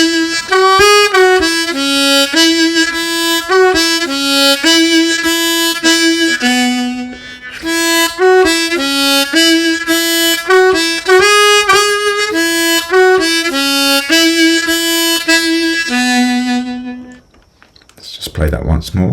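Old-time harmonica plays "Going up to Hamburg", once in the standard version and again with a variation on the 3 draw, a bright chugging run of reedy chords and single notes repeated through two passes; close, loud and alone.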